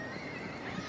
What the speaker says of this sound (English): The Krieger Bar cob doing his walking out in front of the judge Julie Evans